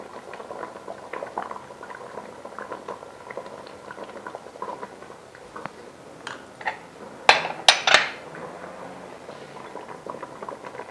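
Chicken and potatoes simmering with yogurt for a Karachi-style chahat biryani, a soft bubbling and pattering in the pot with a few sharp metallic clinks of a utensil partway through.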